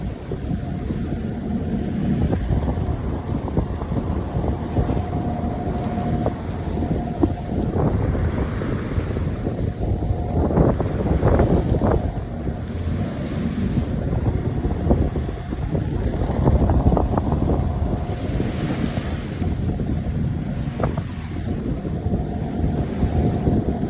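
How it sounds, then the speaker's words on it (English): A sailboat under sail at about 5 knots on the open Atlantic, a loud constant rush of wind buffeting the microphone over washing water and hull noise, with occasional louder swells. "we are completely under sail, going about 5 knots"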